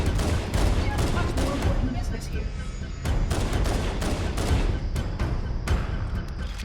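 Rapid gunfire rattles in bursts while shooting at 343 Guilty Spark in the Halo video game, loud sharp cracks repeating over a dense rumble, with brief pauses between volleys and a voice talking underneath.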